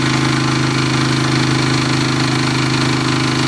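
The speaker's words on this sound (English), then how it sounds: "The generator's just now starting to die." A wood-gas gasifier generator engine runs loud and close in a steady, rough drone with an even pulsing beat as it starts to die, with no voices.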